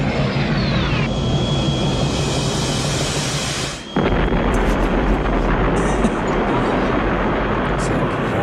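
Nuclear explosion in the film Aliens, a practical in-camera shot: a loud, continuous broadband roar that briefly dips and swells again, holding steady throughout.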